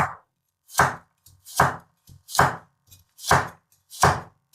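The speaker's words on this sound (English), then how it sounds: "Here's a piece of carrot too, which is to taste. Just cut it here in the middle." Knife chopping a carrot on a cutting board: six crisp, evenly spaced cuts at close range, each a sharp knock with faint scraping between, no talking.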